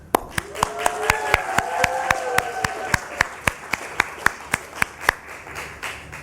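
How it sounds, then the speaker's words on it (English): Clapping at a Nasdaq closing bell ceremony for the International Labour Organization's 100th anniversary, with sharp evenly spaced claps standing out over a murmur of talking voices. "I think that deserves a round of applause"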